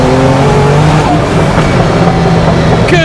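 Loud interior engine drone of a heavily turbocharged Guntherwerks Porsche 911 Turbo under way, a steady rising pull with turbo whoosh and a sharp rev change near the end, with no talking.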